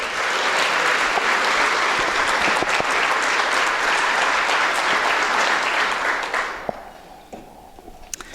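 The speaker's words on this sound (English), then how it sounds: "could we please have another round of applause for both dedicated groups of supporters" A large audience at a community breakfast event in Renton gives sustained, loud applause that fades away near the end, leaving scattered last claps and quieter room noise.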